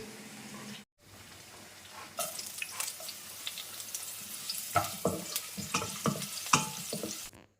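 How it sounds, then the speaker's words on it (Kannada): Chicken deep frying in hot oil for Manchurian gravy makes a continuous bubbling sizzle that swells after a brief pause, with clustered crackles and spatula clinks toward the end. "ಇನ್ನೊಂದು ಸೈಡು ನಾನು ಚಿಕನ್ ಡೀಪ್ ಫ್ರೈ ಮಾಡ್ಕೊತಾ ಇದ್ದೀನಿ"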